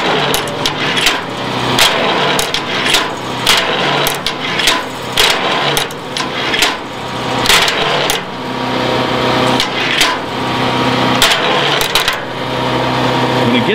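A kinetic wood splitter is engaged, its flywheel spinning at roughly 200 to 300 RPM. It gives a steady mechanical running noise with repeated sharp clanks and knocks throughout, loud and close, and a voice speaks over it at times.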